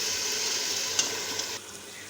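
Spinach and beef frying in a pan while being stirred: a close, dense sizzling hiss with a couple of light utensil taps, fading somewhat in the last half second.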